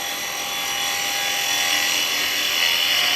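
A wood lathe turning a mug at 2,500 RPM gives a steady, loud, continuous high whine with a hiss of carbide chisel cutting, unbroken for the whole stretch.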